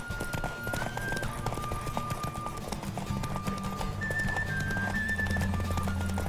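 Galloping horse hooves in The Witcher 3 video game, a steady clip-clop rhythm running throughout over a constant low rumble of game ambience, with an occasional snort or whinny.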